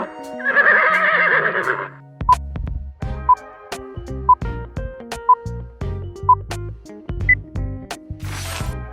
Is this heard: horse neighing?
yes